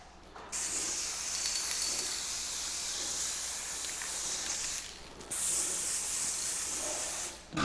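An aerosol spray paint can puts an all-over coat on small parts in two long, loud hissing bursts, the first running about four and a half seconds, a brief pause, then a second shorter burst.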